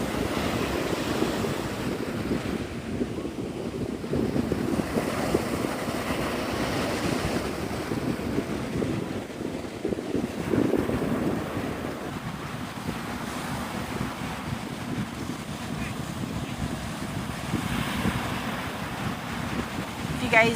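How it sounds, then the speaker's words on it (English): Steady wind on a hot, humid coast, a continuous broadband rush with surf-like swells and microphone buffeting that holds loud for the whole stretch, with no talking over it. "There's more of a wind though, because you're on the coast."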